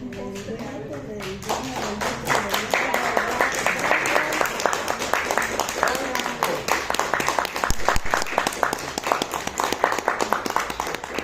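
Audience applause at a community gathering honoring a retired teacher's memories: dense, steady clapping that builds after a brief quieter start and continues without pause, fairly close and loud.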